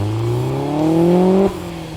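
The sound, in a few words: sports car engine and exhaust revving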